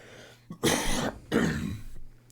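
Two bursts of coughing and throat clearing from an adult with a chest cold, close and fairly loud, each lasting about half a second with a short gap between them.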